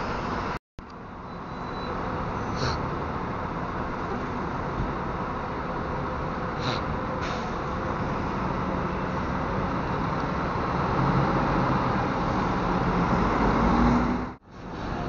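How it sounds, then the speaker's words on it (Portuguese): Coaches pulling out of the Rio de Janeiro bus station, a steady wash of engine and traffic rumble with a brief dropout, moderately loud and continuous. "Mais carros saindo agora"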